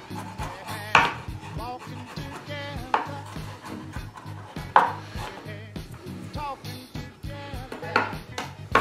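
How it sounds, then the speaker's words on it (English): Sharp knife strikes on a chopping board as food is rocked and chopped into smaller pieces, a loud, close, uneven series of crisp taps and knocks with brief gaps. "rock the knife over the rest of them in different directions to get them a little bit smaller"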